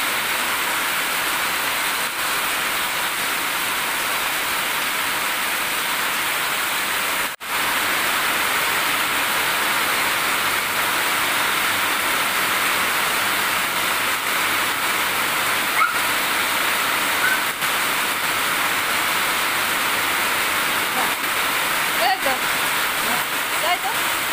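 Flood water rushing over the roof of a cattle shed, a steady broadband roar of flowing water running continuously and fairly loud, with faint talk now and then underneath.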